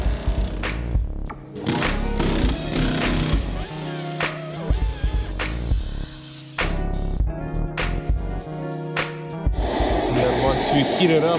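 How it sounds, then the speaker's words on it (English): A heat gun blows steady hissing hot air onto a part of a crashed 2018 Tesla Model S, droning continuously at close range beneath voices and other overlapping sound. "Heat it up real good, it usually just comes off."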